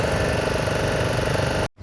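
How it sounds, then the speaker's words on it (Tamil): Two Lambadi inboard engines on a net fishing boat at sea, a loud, rhythmic knocking diesel chug running steadily close up before cutting off abruptly near the end. "கடல் மேலே நம்ம ரெண்டு இன்ஜினுமே பார்த்தீங்க அப்படின்னா கல்ல கல்ல கல்ல கல்லன்னு அடித்து பெய்கிட்டு இருக்குங்க லம்பாடி இன்ஜின்"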